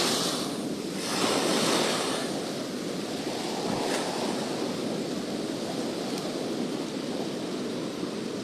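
Large ocean waves break on a beach near Siargao, a heavy rolling surge and hiss of surf with wind buffeting the microphone, continuous and close, no one speaking.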